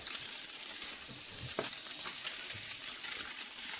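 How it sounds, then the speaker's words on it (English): A knob of butter sizzles and spits in a hot pan around crispy-skinned bass fillets that have just been flipped, a steady close frying hiss with small pops and no talking. "We'll add a knob of butter into there."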